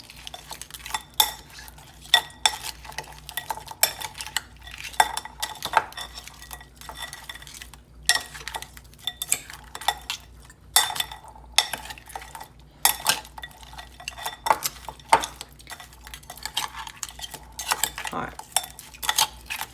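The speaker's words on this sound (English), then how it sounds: "I'm going to take my few pieces of conch in there, and we're going to give this a mix" Pieces of conch are stirred through olive oil in a pot for a Haitian seafood lalo, with repeated close metallic clinks and scrapes of a utensil against the pot; a brief word is spoken.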